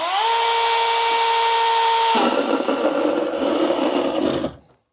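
A small cordless mini chainsaw, a STIHL GTA 26 or ProCraft PKA 45, revs up to a steady whine, then bites into brick with a rough grinding roar before cutting off.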